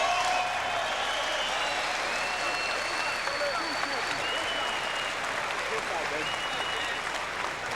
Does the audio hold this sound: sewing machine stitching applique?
no